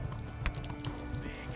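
Horse hooves clip-clop at a running pace in the medieval game Kingdom Come: Deliverance, a faint, steady rhythm of soft thuds with no one talking.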